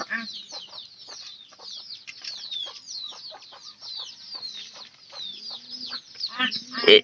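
Chickens cluck and chatter continuously up close in a poultry setting where the birds are fed maize, with a louder burst of calls near the end.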